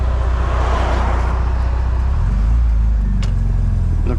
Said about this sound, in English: just wait for this car to go past